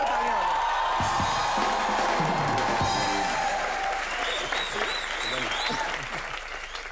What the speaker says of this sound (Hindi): एक बार सबसे रोमांटिक जोड़ी के लिए जोरदार तालियां